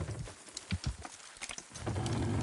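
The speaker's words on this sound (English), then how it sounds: "Horses will pull it clean down." Horses clopping and straining as they pull in a Red Dead Redemption 2 game scene, irregular hoof thuds close by over rumbling low noise, with no talking.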